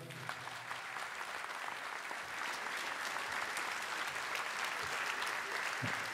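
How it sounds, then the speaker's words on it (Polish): An audience at the Juliusz Osterwa Theatre in Gorzów Wielkopolski claps continuously, a dense, even wash of applause heard from within the hall for the whole stretch, fairly quiet overall. "Także wielkie brawa dla Radia Zachód również."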